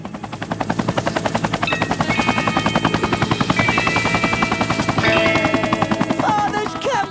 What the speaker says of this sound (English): Father's company chopper